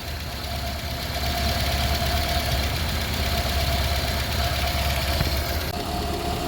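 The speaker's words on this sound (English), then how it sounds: "She's up the temperature and she's idling now" A carbureted Vauxhall engine idles steadily nearby at operating temperature, a continuous low rumble with a faint knocking texture and constant level throughout.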